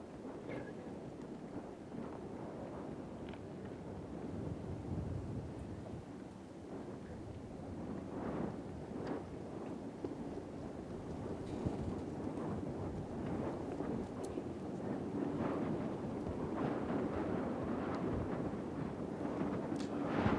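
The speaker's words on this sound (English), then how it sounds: "Wind has been gusting all week long." Gusting wind on a golf course roars steadily into the microphone, a dense rumbling buffet that swells and eases for about twenty seconds with no voices.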